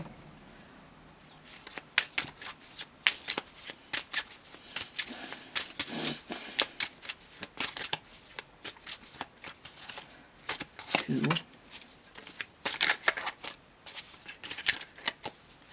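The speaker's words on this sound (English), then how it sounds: "No matter how I shuffle these, whenever I get cards out, they're always upside down." Tarot cards being shuffled by hand, with rapid papery riffles and flicks repeating irregularly, close up, while a person talks at times.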